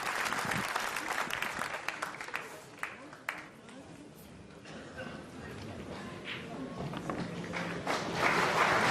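A crowd in a snooker arena at the 2013 World Championship applauds steadily after a match win, a dense, sustained wash of clapping that swells again toward the end.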